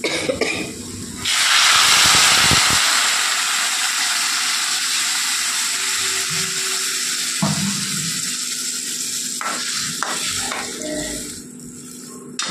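Water poured into a hot pan of well-fried spice mixture bursts into a loud, close hiss of steam that swells quickly, then slowly fades over several seconds, broken by a few light clinks near the end.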